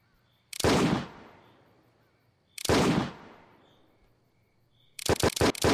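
Gunfire in a zombie video game: two loud single shots, each with a long reverberant decay, then a rapid close burst of shots at the end.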